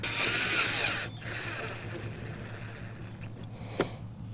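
A power drill whirs steadily for about a second while installing a front license plate bracket on a Lexus RX350, then cuts out, leaving a quiet background hum and a single sharp click near the end.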